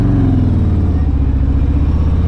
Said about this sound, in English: I am on an illegal bike right now